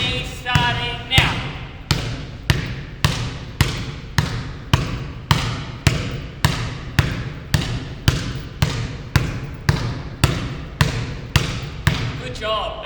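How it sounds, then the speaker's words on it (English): A basketball thumps steadily on a hard floor in a dribbling drill, alternating in front of and behind the foot over a water bottle, roughly twenty close, even bounces in quick rhythm. "bounce one in front, at the front of our foot, one at the back of our foot, over that water bottle."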